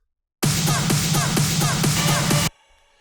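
A dense electronic build with rapid rhythmic hits and a steady low tone, loud and continuous for about two seconds before cutting off abruptly.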